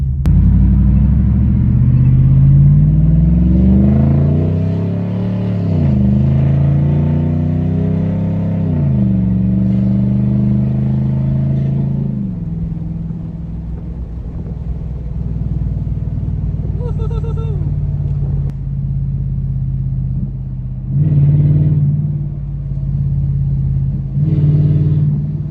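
A 2013 first-generation Ford F-150 Raptor with straight pipes, its resonator and muffler deleted, accelerates with a loud, deep exhaust rumble through rising revs and gear changes, then settles to a heavy steady drone and revs up again briefly.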